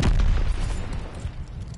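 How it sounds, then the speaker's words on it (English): Mortar fire in Call of Duty: Vanguard hardcore team deathmatch on PS5 lands as a deep, rumbling boom at the very start, then decays into a low, muffled rolling tail. "Allied mortar fire inbound."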